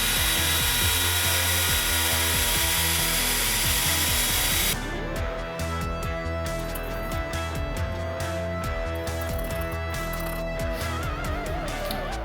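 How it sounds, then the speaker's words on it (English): Wood router with a round-over bit whines loudly at a steady high pitch, then drops to a lower, rougher tone as it cuts, close by with no talk. "Okay, just a simple round over bit."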